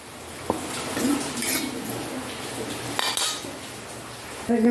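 Curry being scraped from a hot frying pan into another dish for ulli theeyal, with metal utensil clinks and pan scraping close by, a sharp knock early on and a louder clatter at the end.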